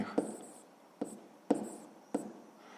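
A pen writes out a sixth-grade math solution on paper, making four distinct scratchy strokes with short pauses between them, close and crisp with no talking.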